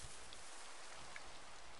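Rain falls steadily in the Minecraft video game as a faint, even hiss of drops, with no voices over it.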